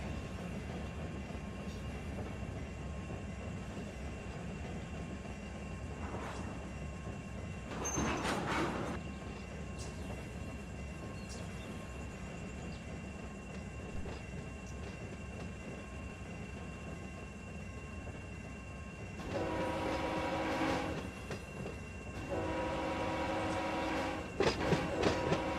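A freight train runs in the Run 8 train simulator game, a steady low rumble of rolling cars with louder bursts of rail clatter and squeal as it crosses a switch. No one speaks.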